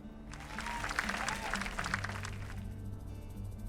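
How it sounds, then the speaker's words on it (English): A crowd applauding a core construction team at a bridge opening in a game, a few seconds of steady clapping over a low droning music bed that continues after the clapping thins out. "let's give a special round of applause for our core construction team"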